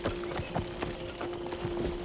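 Horse hooves clip-clop at a steady trot in the Assassin's Creed Shadows video game, a rhythmic run of close, evenly spaced hoofbeats over a constant low hum.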